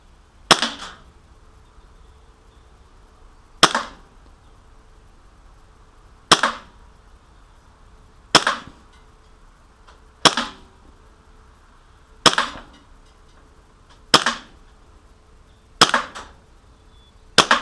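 KWC P-08 Luger CO2 blowback airsoft pistol fires nine sharp single shots at a steady pace about two seconds apart, each a crisp pop with a quick mechanical snap of the bolt, close and loud.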